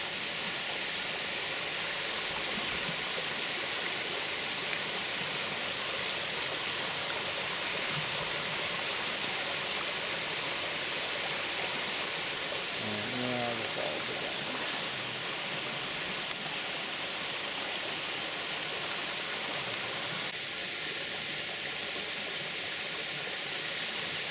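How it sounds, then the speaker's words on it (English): A waterfall at Cove Spring Park in Frankfort, Kentucky roars with a steady, dense rush of falling water, close and loud throughout with no voices. "Same water feature, getting closer to the falls."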